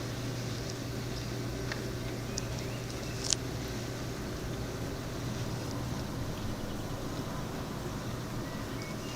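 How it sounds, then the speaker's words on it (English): The King Harry Floating Bridge, a chain ferry in Cornwall, crosses in the background as a steady, low mechanical drone with outdoor wind noise, continuous and fairly distant, with one faint sharp click partway through. "Here we are waiting for another ferry, or the King Harry Floating Bridge as it calls itself."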